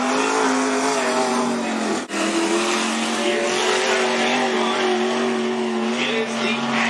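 A race car laps the oval at Cottage Grove Speedway, its engine droning loud and steady with a brief dip partway through, while an announcer's voice carries over the track noise.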